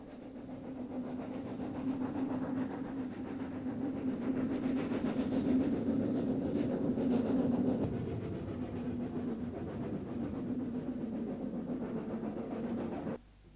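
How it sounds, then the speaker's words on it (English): A Snowdon Mountain Railway-style train climbing steeply from Llanberis station over the Afon Hwch viaduct, a steady low droning engine note with a rolling rumble of wheels, close and sustained before cutting off abruptly. "Soon after leaving Llanberis station, the train starts its steep ascent over the Afon Hwch viaduct."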